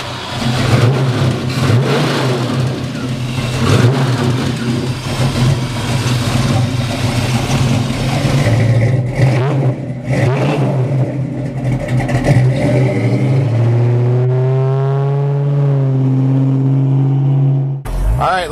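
A 1968 Ford Mustang GT Fastback engine runs close and loud, revving up and down in deep swells before settling into a steadier drone as the car pulls away.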